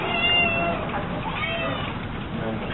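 Several cats meow together in a continuous overlapping chorus, close and fairly loud, with no talking.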